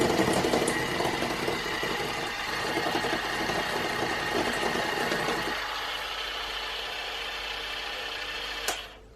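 An electric mixer beats gluten-free, lactose-free and yeast-free mixed spice loaf batter with a steady close whirring drone. Its tone thins about halfway through, and it ends with a short clunk as it stops.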